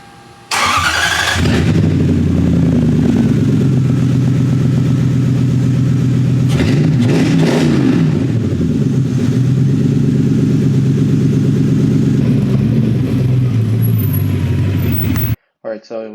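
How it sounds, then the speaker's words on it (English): A Lexus SC400 with a six-speed manual swap cranks over on a test jump start, catches and idles roughly, then revs up loudly and steadily for several seconds before cutting off abruptly. "Just doing a test jump to see if it'll start"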